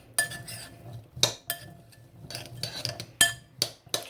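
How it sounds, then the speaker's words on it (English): A metal spoon clinks and scrapes against a bowl while stirring peas with seasoning, a series of close, sharp taps in an irregular rhythm. "I've got a spoon. Mix everything up together so your peas are evenly coated."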